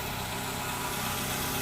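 A freshly repaired Matiz car engine idles evenly nearby, a steady low mechanical hum with faint vibration and no change in pace over the short stretch.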